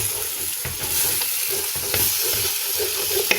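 Egusi frying in a pot for ogbono and egusi soup, a constant close sizzle with quick scraping stirs of a spoon running through it.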